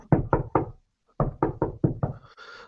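Knocking on a front door in two sets: three firm raps, a pause, then five more, close and fairly loud with no voices.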